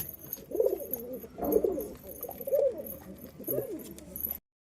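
Pigeons cooing in a loft, several soft throaty coos repeating in steady bursts at close range, with no talk over them.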